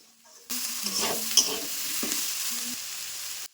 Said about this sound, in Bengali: এই সব কিছু মশলা ভালোভাবে কষিয়ে নেব।